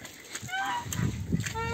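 Farm ducks let out a few nasal honking calls, close and brief, mixed with light background noise.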